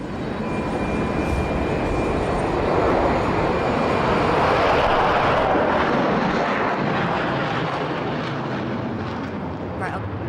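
A Concorde supersonic jet airliner roars loudly and steadily from start to finish, a broad rumbling engine blast that swells toward the middle and then slowly eases.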